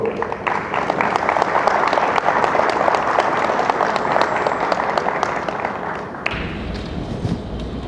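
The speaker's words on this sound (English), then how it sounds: "Let's give a round of applause for Mr." Dense, loud crowd applause greets Fernando Barbosa at a boys soccer county championship awards ceremony, sustained for about six seconds before abruptly dropping to a lower, thumpier murmur.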